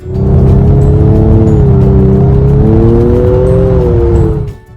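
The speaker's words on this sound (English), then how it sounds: "So I really like how this car sounds. For a standard V6 exhaust, it's pretty good." A standard V6 exhaust on a four-door sports car drones loudly and close, holding a smooth, steady rumble with slight rises in pitch before easing off at the end.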